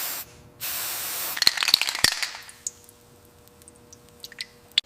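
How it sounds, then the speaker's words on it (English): Contact cleaner sprays in a loud hissing burst onto a ground strap on a 1962 Volkswagen Type 2 Microbus. Sharp clicks and small crackles follow as it fades off. "Contact cleaner finishes it."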